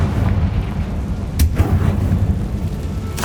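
A Confringo fire spell in Hogwarts Legacy explodes with a heavy, rumbling boom, a sharp crack near the middle followed by rolling low thunder-like rumble and another hit at the end.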